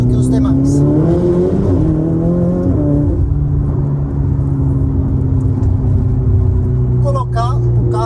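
Ferrari 488 Spider convertible cruising at night with a steady, loud engine drone whose pitch climbs and shifts with gear changes, while someone talks over the cabin noise.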